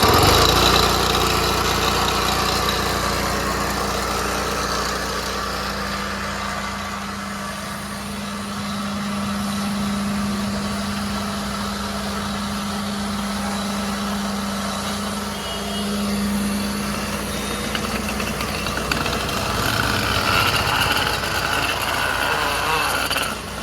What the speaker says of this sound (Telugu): ఇప్పుడు మనం ఇంజిన్ స్టార్ట్ చేసుకోవాలి